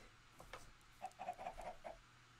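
Chickens clucking in Minecraft, a quiet run of short, quick clucks in the middle of the clip over a faint background hum.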